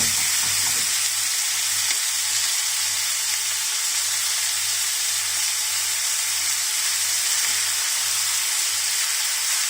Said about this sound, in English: We like to give pork a little bit brown color and taste also nice as well.